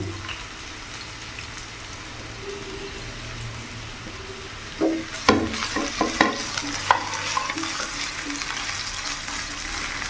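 Capsicum and carrot being stir-fried in a pan, a low sizzle at first, then a burst of louder spatula scraping and clinking as the vegetables are tossed, followed by steady frying, no talking.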